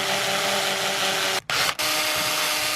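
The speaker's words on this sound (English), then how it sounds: "we're going to use our 15/64 drill bit to drill through here" A power drill with a 15/64 bit whirs steadily and loudly up close while drilling a mounting hole in a BMW E39 or E53, cutting out briefly twice before resuming its continuous high-pitched grind.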